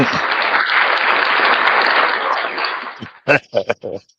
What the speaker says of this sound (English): Let the people give you a round of applause